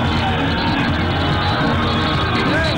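A dense crowd at PM Modi's roadshow in Surat, ahead of the Gujarat polls, roars continuously with loud yelling and shouting blended into a steady wall of noise.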